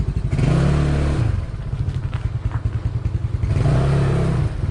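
A motorcycle engine fires up and is revved in two loud surges, dropping back to a pulsing, clattery idle in between, close to the microphone and without anyone talking.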